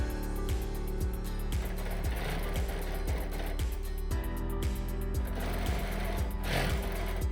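A sewing machine quilting diamond lines along lollipop quilting templates runs steadily, with a loud, even, rapid stitching rhythm and a motor hum throughout.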